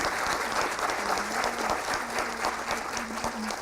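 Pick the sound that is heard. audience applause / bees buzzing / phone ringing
audience applause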